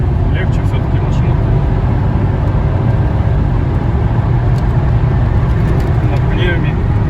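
Mercedes W211 E500 sedan fitted with an M113 V8 engine accelerating, a loud, steady low engine roar with road and wind rush throughout, heard from inside the car, with no clear talking.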